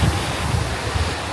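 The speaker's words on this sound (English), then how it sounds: "It's kind of windy out here" Steady, loud wind buffets the microphone outdoors beside a lazy river in Jamaica, a continuous low roar, with no voices.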